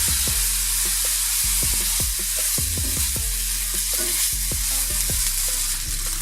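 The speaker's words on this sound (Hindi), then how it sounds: "अब इसमें मैं दूध डालूंगी। दूध हम थोड़ा थोड़ा करके डालेंगे, साथ साथ इसको हिलाते जाएंगे।" Fried flour in a pan being stirred as milk is poured in bit by bit, giving a loud constant sizzle with a steady rhythm of spoon scrapes, about two strokes per second, close to the pan.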